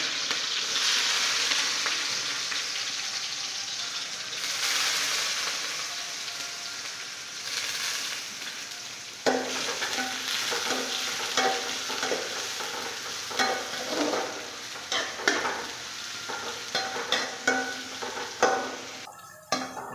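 Garlic, green chilies and onion fry in a hot pan, a loud steady sizzle broken later by repeated scraping stirs and clattering spatula strokes, close up with no voices.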